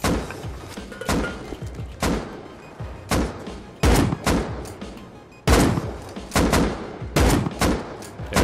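Heavy shotgun blasts in the survival game Rust, roughly eight loud booming shots at uneven intervals about a second apart. Each is close and punchy over a busy rumbling background of in-game noise.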